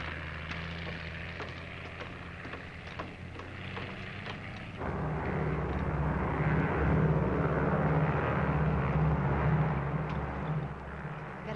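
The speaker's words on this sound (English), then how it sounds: "United Airlines mainliner service flight 608 from Los Angeles. Now arriving at gate 2." A United Airlines mainliner from Los Angeles arriving at the gate: steady loud propeller-engine drone at the start, then a heavier, rougher engine roar that swells and holds for the rest of the clip.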